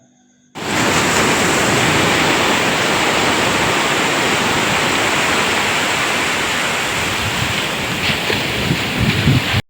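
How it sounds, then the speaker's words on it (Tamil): Sea waves breaking on Mangalore beach in Karnataka, a loud, steady wash of surf and spray filling the whole stretch with slight swells, alone with no voices. "அந்த அலைகள் அனுபவம் எப்படி இருக்குன்னு பார்க்கலாம்"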